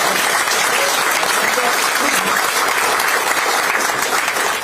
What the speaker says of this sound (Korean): 박수도 안 쳐주세요